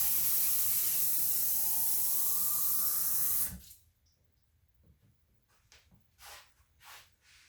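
Tap water runs steadily into the bottom chamber of a Zula espresso moka pot for a few seconds, then cuts off, leaving faint handling clinks and knocks.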